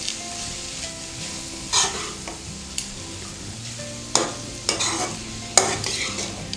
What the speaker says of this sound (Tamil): இப்போ இது எல்லாத்தையும் சேர்த்து நல்லா கலந்துருங்க.